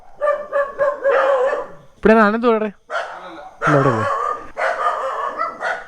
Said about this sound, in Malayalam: ഒരു പട്ടി ടീമേ ഉണ്ടല്ലോ ഇവിടെ